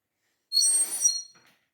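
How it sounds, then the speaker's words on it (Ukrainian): A child blows a clay whistle figurine in a museum: a single short, shrill, bright whistle of under a second, close and clear, trailing off with a faint breathy tail. "Є у нас там свищик з глини? Ось він. Ану посвисти нам."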